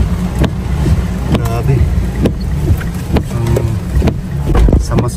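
Strong typhoon wind buffets the microphone with rushing, rumbling gusts along a riverside in Bayawan City, Visayas, close and loud, while a person exclaims briefly over it.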